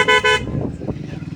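A motorcycle horn gives two quick, loud, close toots, followed by low engine and road rumble.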